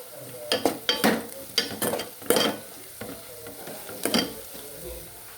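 Ginger garlic paste is stirred into onions frying in a pan for a fish curry, with a spoon scraping in repeated bursts over a steady sizzle.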